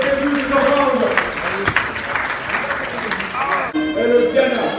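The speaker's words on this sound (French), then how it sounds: "On applaudit pour les deux combattants." Applause and crowd noise fill the space at a Muay Thai fight night in Lomé, clapping steady and dense, with voices mixed in and a brief lull near the end.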